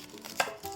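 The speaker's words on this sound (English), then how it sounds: "while I'm chopping this onion" A knife chops an onion on a cutting board in a home kitchen, giving a few soft, close cuts with one sharper knock near the middle.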